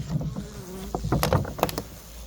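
Buzzing of a honeybee close by at beehives, the drone rising and falling in short bursts as it moves around, with no one talking.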